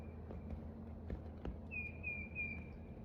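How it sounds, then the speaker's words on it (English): A single bird calls outdoors during a walk, a thin drawn-out whistle from fairly close, heard over a low background hum and a few soft clicks. "I don't know what bird that is I'm hearing."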